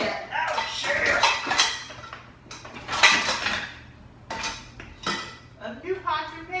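A new set of metal pots and pans is handled, giving a run of irregular clanks, clinks and scrapes at close range, with brief quiet gaps between the bursts of noise.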